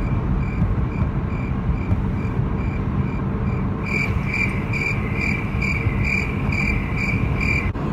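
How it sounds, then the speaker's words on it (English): Rhythmic cricket chirps pulse steadily over a low rumbling background, growing louder and sharper partway through. "Crickets."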